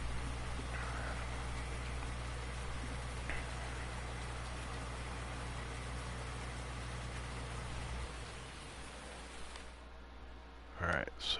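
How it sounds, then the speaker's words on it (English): Steady rain falls in Farming Simulator 19 as a dense, even hiss that holds for several seconds, then thins and drops away near the end, with a low constant hum underneath. "when it rains, real farmers can't harvest their canola"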